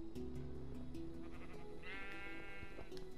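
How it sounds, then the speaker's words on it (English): A brown sheep in Minecraft bleats several times in a row, a wavering nasal call fairly near and clear over a low background, with no talking. "Oh, a brown sheep."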